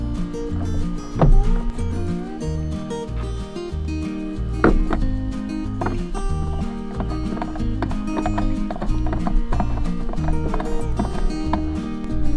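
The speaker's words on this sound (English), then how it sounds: "If you tip it upside down, you can hear that float moving around in there." A Harris Farms Easy-Fill poultry drinker is tipped upside down, and the float inside knocks and rattles around in irregular hollow plastic clunks, close up, with scattered sharper thumps.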